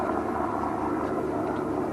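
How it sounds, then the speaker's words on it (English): A helicopter passing overhead, a steady rumbling drone with a broad whirring wash that holds even and fairly loud throughout, with no voices. "that damn helicopter's coming back again"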